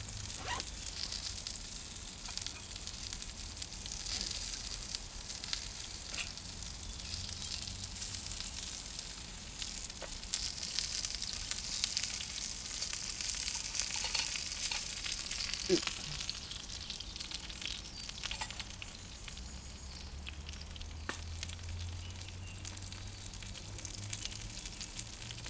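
Ghee frying in a pan over a Trangia camping stove, tested outdoors behind a Bushbox XL windbreak, gives a steady, close sizzling hiss that runs unbroken throughout with no clear talk.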